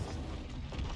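A Confringo spell explosion from the Hogwarts Legacy video game: low, muffled booms swell twice over a deep rumbling bed, fairly faint, with no talk.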